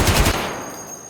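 A short, sharp burst of full-auto gunfire in the video game Escape from Tarkov, a few rapid shots fired close and loud that trail off into a fading echo.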